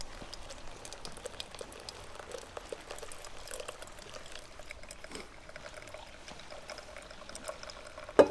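Steady pouring of boiled water at a backcountry campsite, a continuous trickling splash throughout, with a small clink near the end.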